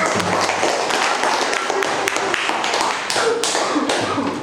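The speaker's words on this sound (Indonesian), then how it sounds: "kasih tepuk tangan untuk" Pupils in a school classroom during an Islamic religious education lesson clapping their hands, giving a dense flurry of sharp, close claps with voices mixed in.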